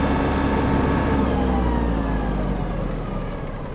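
Yanmar RS-27 Japanese mini tractor engine running at full throttle: a loud, steady, rough mechanical drone that holds constant and eases slightly toward the end.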